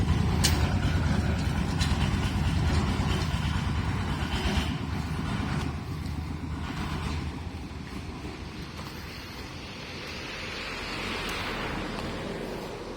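Thai e-taen farm truck engine revving on the throttle, a loud rough close rumble that rises and eases over several seconds, with a hiss late on and no talk.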